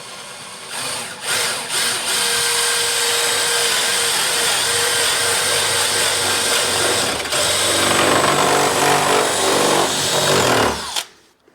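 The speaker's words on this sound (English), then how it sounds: "I have to drill this wood out so I can get that bit in there" A big drill bit bores through wood under a kitchen sink countertop, a loud continuous power-drill whine and grinding roar lasting several seconds before cutting off abruptly.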